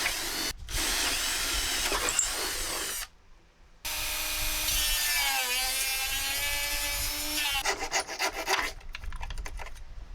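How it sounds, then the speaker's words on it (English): A power drill bores through a model airplane engine cowl, a Cessna C-188 Agwagon kit, to open a hole for the control rods. Several sustained whining bursts shift in pitch under load, separated by short pauses. "drill out the opening for the control rods"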